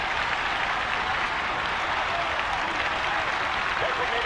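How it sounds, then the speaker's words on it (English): A steady roar of crowd noise rises from a stadium in the baseball video game All Star Baseball 2002 right after a home run, a dense, even wash of cheering that holds throughout without breaking. "Listen to this crowd."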